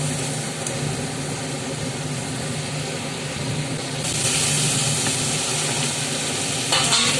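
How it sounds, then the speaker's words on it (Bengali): Spice masala with Kashmiri chilli and salt being sautéed in a pan for a chital fish curry, with a continuous dense sizzle and stirring scrapes that grow slightly louder midway, close and without talk. "দিয়ে আবার মশলাটা ভালো করে একটু কষিয়ে নিতে হবে।"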